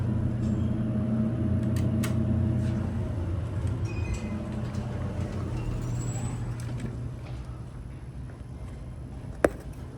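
A Dover Traflomatic traction elevator car hums steadily as it travels upward, a low continuous motor drone that slowly fades, with faint background clicks and a sharp single click near the end.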